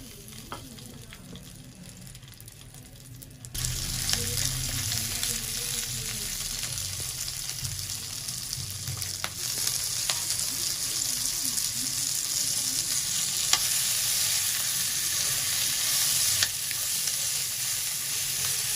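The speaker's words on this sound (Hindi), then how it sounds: "तेल गरम हो गया। ये हमारे पास मिर्चें हैं, ये हम डाल देंगे।" Green chilies hit a spoonful of hot oil in a pan, and a sudden loud sizzle starts a few seconds in and then continues steadily, close by, with occasional stirring clinks.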